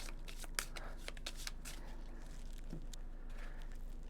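Board game cards for a dungeon-themed hero game being shuffled by hand at close range, a soft continuous riffling flutter with quick papery snaps over a quiet background.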